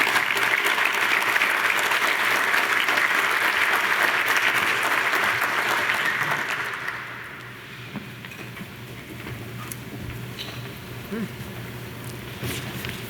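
Audience applause at a scholarship awards dinner as a former First Lady is welcomed to the stage, steady loud clapping from a large room that fades after several seconds into scattered claps and murmur.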